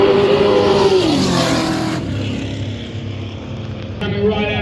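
Roll racing cars accelerate side by side down a drag strip in Adelaide, loud rising engine roars that swell and fade as they pass, with a commentator talking over the noise.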